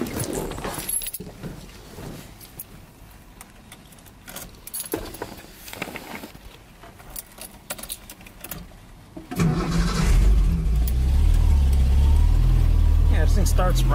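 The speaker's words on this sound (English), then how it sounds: "Let's go ahead and start this thing up." A Datsun 280Z starts up: starter cranking, then the engine catching around nine seconds and settling into a loud, steady low rumble, after handling noises and keys jangling earlier.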